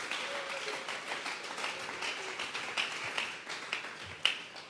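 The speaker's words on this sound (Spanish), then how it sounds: "Vamos a regalarle ofrenda de palmas al Dios de la gloria." Church congregation clapping together as an offering of praise to God, a steady dense patter of many hands filling the room at moderate distance, with faint voices underneath.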